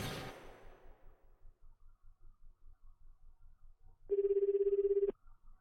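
A phone in the Chaos;Head visual novel game rings with a single buzzing, trilled burst of about a second. A low, steady pulsing beat runs quietly throughout.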